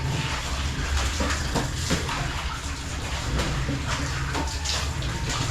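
Steady running water pours continuously from a tap with weak water pressure, a thin, even stream with no voices over it.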